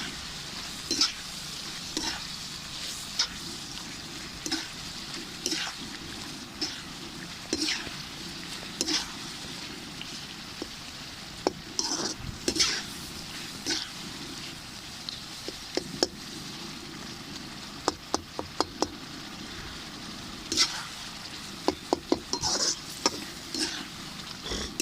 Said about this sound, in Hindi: अच्छी तरह टमाटरों को मसल लेंगे।